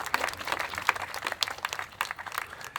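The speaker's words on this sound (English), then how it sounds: "Let's give a round of applause for all of our youth voice here this afternoon" A modest audience at a youth advocacy press event claps for young speakers, with scattered, irregular hand claps, fairly close and moderately loud, with no voices over them.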